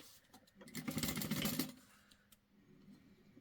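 A sewing machine stitching a fabric wristlet runs in a steady rapid burst for about a second and a half, close and moderately loud, then tapers off into soft mechanical clicks.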